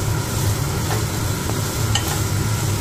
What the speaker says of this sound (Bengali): প্রথমে শুকনো লঙ্কা আর তেজপাতা আর গরম মশলার ছোট এলাচ আর দারচিনি দিয়ে একটু নেড়ে নিয়েছি গরম তেলে